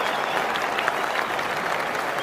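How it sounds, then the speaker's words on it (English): A packed crowd at Lord's cricket ground greets Brian Lara walking out to bat in the MCC versus Rest of the World bicentenary match. Loud, sustained applause and cheering forms a dense, steady wash of sound with no talk over it. "now listen to the roar as this man comes to the crease"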